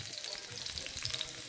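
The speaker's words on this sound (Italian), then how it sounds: "guardate che bei schizzi d'olio dappertutto" Garlic and chili sizzling in hot oil in a pan, a dense steady crackle with spattering pops, close and fairly quiet, no speech.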